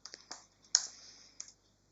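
A few quiet keystrokes on a computer keyboard, separate light clicks with short gaps, close and faint, no talk.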